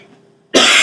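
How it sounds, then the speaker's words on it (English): A single loud, harsh cough bursts out after a half second of near silence, close to the microphone. "And then there's the occasional cough."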